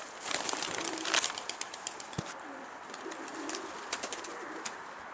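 Pigeons coo in low, repeated murmurs through a loft or rooftop setting, with bursts of wing flapping and a sharp thump near the middle; fairly close and steady, no voices.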